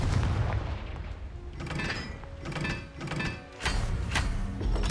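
Confringo fire spell blasting in Hogwarts Legacy, a series of loud booming impacts and crackling bursts in quick succession, with dense noisy rumble throughout and no speech over it.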